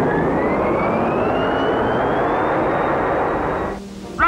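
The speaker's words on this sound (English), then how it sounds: "Activate landing generators." Cartoon spaceship landing generators power up as a steady, loud electronic drone with a slowly rising whine, then briefly drop away before a sharp burst of bright warbling tones near the end; no voices.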